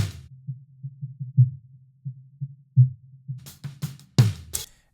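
A snare drum with a low 129 hertz EQ boost thumps in a steady quick pattern with soft, dull low hits. Brighter, sharper hits and a crash come in near the end.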